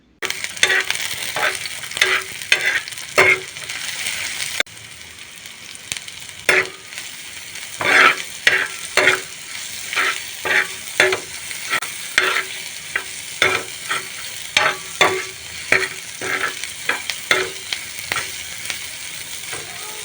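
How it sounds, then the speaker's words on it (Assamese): Taro, onion, ginger and lemon frying in a pan for a chutney, with a continuous sizzle broken by repeated scraping stirs of a spatula, close and fairly loud. "নেমু টেঙা, পিঁয়াজ আৰু এইখিনি ভালদৰে অকণমান ভাজি ল'ম"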